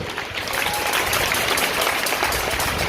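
Dense, steady clapping from a crowd at a Hindi Christian sermon fills the whole stretch, loud and continuous without a break.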